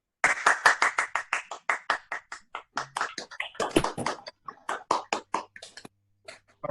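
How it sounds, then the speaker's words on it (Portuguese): Online participants in a youth church service clap with microphones unmuted, a run of distinct, fairly close hand claps with uneven overlapping rhythm that thins out and trails off near the end. "Aplaude sem um mute, pelo amor de Deus."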